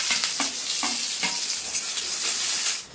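Chopped garlic and a large chopped onion fry in hot oil with bay leaf, dried red chilli and whole cumin, giving a steady close sizzle broken by repeated stirring scrapes.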